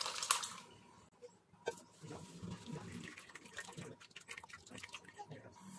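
Running water rinses freshly strained chhena held in a cloth, with splashing and trickling bursts that rise and fall irregularly, close by and fairly soft.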